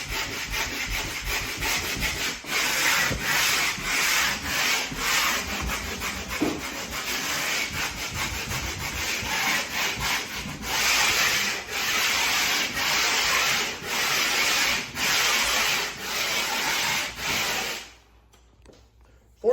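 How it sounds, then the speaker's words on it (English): Sandpaper rubbed by hand over a painted interior wall around an electrical box, a loud, steady scratchy rasp in repeated back-and-forth strokes that stops near the end. "Sand around this box."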